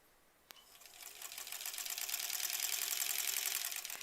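Sewing machine stitching leader-and-ender quilt pieces together, starting after a sharp click and building into a steady, fast, continuous whir that holds loud to the end.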